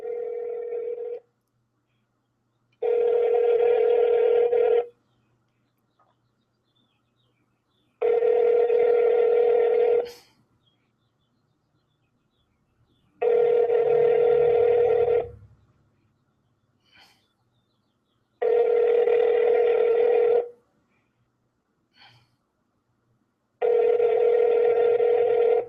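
A telephone call ringing out over the line, with five evenly spaced two-second rings separated by silence, clear and close, followed by a brief muffled thump.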